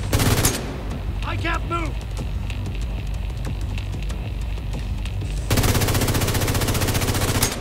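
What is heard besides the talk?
weapon firing in The Division 2 video game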